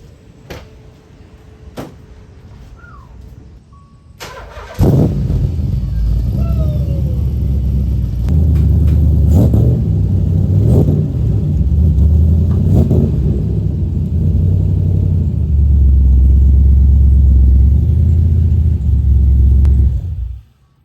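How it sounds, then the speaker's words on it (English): A car engine cold-starts after a few quiet clicks, catching with a loud burst and settling into a heavy, rumbling idle with occasional blips of revving, close by and steady until it cuts off at the end. "A little cold start for you guys."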